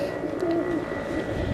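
A teddy pigeon, a black and blue bird, coos softly and close by in a low, rolling murmur that continues through the moment.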